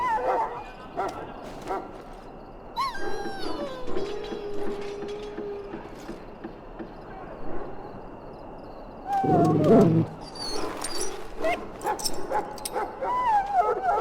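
A dog in the Dragon Age Origins video game whimpering and yipping, then barking in a loud burst, amid game ambience.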